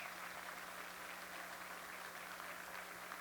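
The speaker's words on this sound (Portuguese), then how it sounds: "Palmas para o Durval" Applause from the audience at a corporate supplier awards ceremony, a faint, distant and uniform patter of clapping over a steady hum in a large venue.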